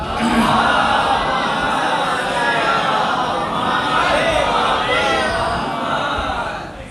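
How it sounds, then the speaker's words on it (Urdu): A large majlis congregation recites the durood salutation together, a dense, sustained wave of many voices chanting in unison that swells and holds steadily for several seconds at close range. "درود بھیج عظمت آل محمد پر"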